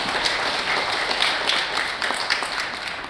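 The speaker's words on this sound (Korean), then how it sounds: "이 생생한 토크 이어가 주신 네 분께 다시 한번 큰 박수" A large audience breaks into sustained applause at a Korean talk event on sleep apnea, steady dense clapping throughout with no voices over it.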